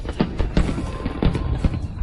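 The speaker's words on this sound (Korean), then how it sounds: "누가 폭죽을 터트리고 있네?" Fireworks going off at a birthday surprise, a rapid series of sharp pops and crackles repeating through the whole stretch, fairly loud and close.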